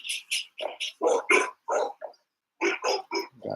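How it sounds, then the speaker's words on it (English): Dogs bark in short, sharp, yipping bursts, about a dozen quick calls in two clusters separated by a brief pause, fairly close. "Got the dogs chirping."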